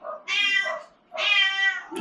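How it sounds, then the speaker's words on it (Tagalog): A house cat meows twice in close succession indoors, in newly built rooms, each call loud, near and drawn out, with a brief quiet gap between them and no talking. "Andyan si Meow Meow."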